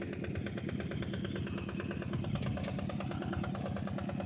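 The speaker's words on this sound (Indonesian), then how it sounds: "Kalau dulu kan pakai kerbau, sekarang pakai traktor teman-teman." Tractor engine working a rice paddy, a steady loud mechanical chugging with a rapid regular pulse and rattling clatter, continuous and fairly close throughout.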